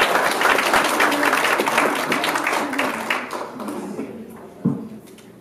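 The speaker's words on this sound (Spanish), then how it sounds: "Un aplauso." Audience at a maize meeting bursts into loud, dense applause that thins out after a few seconds, leaving scattered claps and a soft thump near the end.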